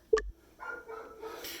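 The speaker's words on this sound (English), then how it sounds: "sorry about the dogs barking there in the background" A single short, sharp dog bark, followed by fainter whimpering or yipping sounds in the background.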